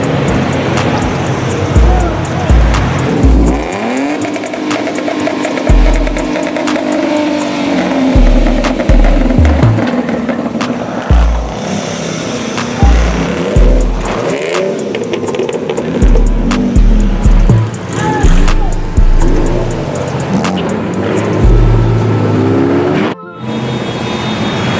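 A Mustang drives and revs at a busy car meet, its engine surging in repeated low bursts through steady crowd noise, with people talking nearby.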